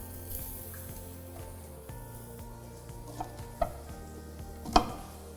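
Summer vegetables searing in a very hot pan, a steady low sizzle and crackle close by with a few louder pops and stirring scrapes, and no talking.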